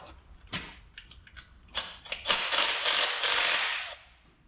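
A ratchet tightening engine mounting bolts on a 1959 Apache, quick clicking pawl bursts that build into a rapid continuous ratcheting run, close and fairly loud, with no talk.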